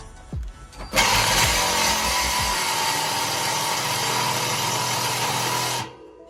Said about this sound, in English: So I got my trusty saw here with a metal cutting blade on it, and I'm just gonna go to town on that nub.